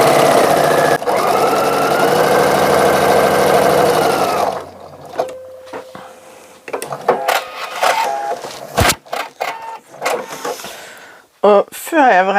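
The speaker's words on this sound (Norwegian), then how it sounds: "syr en søm" A sewing machine runs a continuous, fast stitching burr for a few seconds while a seam is sewn on a small fabric tab for a zippered pouch, then stops, followed by softer handling noises and close speech.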